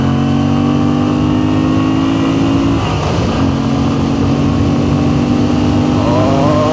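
A 2025 Moto Guzzi V7 Sport motorcycle engine at high revs, a loud, sustained whine that steps down briefly mid-way and then climbs again, heard close without talk.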